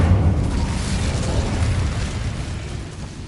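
Incendio fire spell cast in the video game Hogwarts Legacy, a loud, continuous roaring burst of fire that rumbles steadily throughout without pause.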